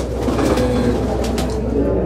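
Pigeons in a loft coo in a steady, close, continuous murmur of overlapping low calls, with no talk over them.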